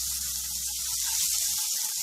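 Onion and garlic sauteing in a pan give a steady, soft sizzle and hiss that runs continuously throughout, close and fairly quiet, with a few faint low knocks near the end.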